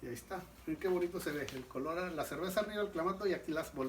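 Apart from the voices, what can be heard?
None of the usual background noises is heard.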